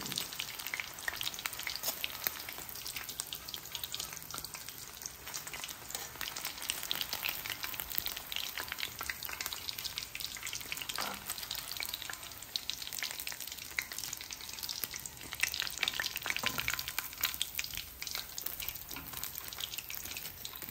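Chicken pieces frying in hot oil in a home kitchen, a steady dense sizzle and crackle running continuously and close, with no talk over it.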